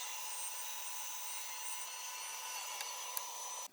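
A bandsaw runs with a steady, faint high whine as it trims a wooden offcut, the blade tone holding constant for a few seconds before cutting off abruptly.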